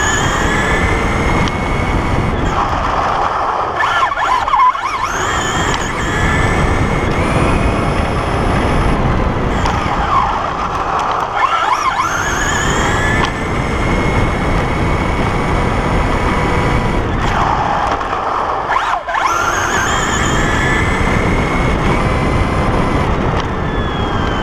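Traxxas Slash RC car fitted with a Turnigy eNOS booster runs continuously, a loud steady motor whine with rising and falling pitch sweeps as it passes, roaring throughout with no pauses.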